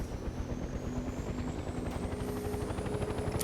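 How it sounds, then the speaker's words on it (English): Helicopter from the video game Mercenaries 2: World in Flames, a steady loud rotor drone with rapid blade chop throughout, close and continuous with no talk. "One helicopter delivered."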